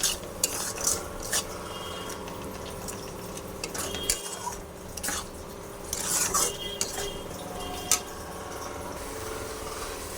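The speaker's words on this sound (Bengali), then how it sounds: "মশলাগুলো ভালো করে কষিয়ে নেব।" Spices sautéing in oil in a pan with salt, stirred by a metal spatula that scrapes and clinks repeatedly over a soft, constant sizzle, close up and with no voices.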